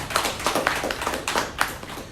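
Applause from an audience at a community association's interaction event, a short burst of scattered, fairly close hand claps that sounds thin, as if only a few people are clapping.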